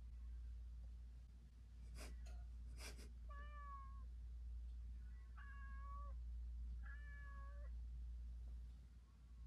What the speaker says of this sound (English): The neighbors across the hall have a cat that's like sitting at the door meowing.